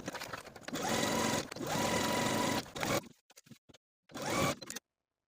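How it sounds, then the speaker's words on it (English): A sewing machine stitches the bottom of a wrap top's facing to its bodice in a few loud, steady bursts, then pauses, with short clicks in the gaps before one more quick burst; no talking. "sewing once again the bottom section of the facing to the bodice with a 1 inch seam allowance"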